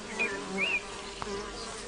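A steady drone of bees buzzing close by, with a few louder passes as individual insects fly near.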